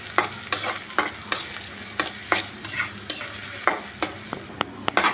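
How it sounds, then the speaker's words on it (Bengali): Chopped onions with a bay leaf frying in hot mustard oil, with a steady sizzle and repeated sharp scrapes of a spoon stirring the pan roughly twice a second, close and clear. "পেঁয়াজটা আমি লাল লাল করে ভেজে নিব।"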